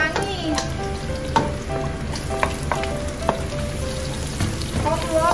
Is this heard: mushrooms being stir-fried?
yes